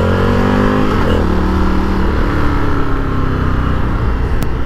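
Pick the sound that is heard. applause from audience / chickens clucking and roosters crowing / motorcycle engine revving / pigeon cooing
motorcycle engine revving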